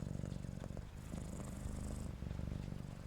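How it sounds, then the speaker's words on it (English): A cat purrs close up, a soft rhythmic rumbling with a quick pulsing flutter, continuous and quiet. "started to purr"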